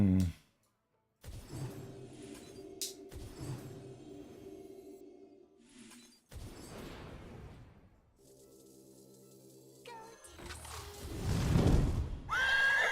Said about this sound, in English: I hear horsey sounds